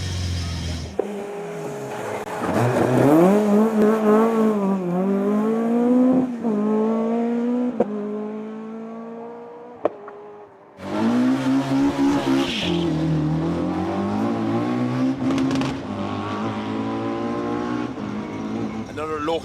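An orange Ford Escort rally car roars past with loud revving and shifting engine pitch, drops off briefly, then comes back hard on the throttle. A commentator talks over it.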